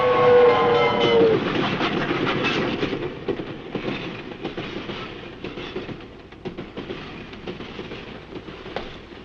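A train rumbles past with heavy rolling clatter and rhythmic clicks, loud and near at first and gradually fading.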